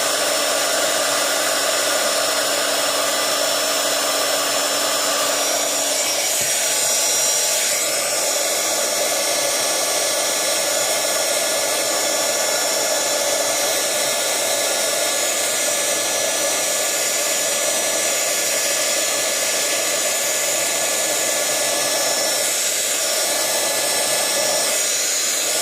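A heat embossing tool blows hot air over a Christmas card, a steady whooshing hum that runs loud and close for the whole stretch with no talking.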